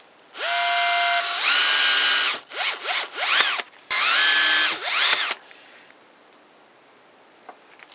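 A power drill drives screws into an old lamp being converted, with two long whirring runs that rise and fall in pitch and a few short bursts between them, close and loud, followed by near silence.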